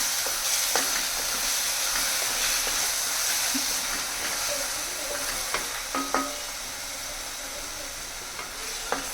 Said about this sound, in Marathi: आपण टोमॅटो ॲड केलेला आहे आणि छान असं परतून घेऊयात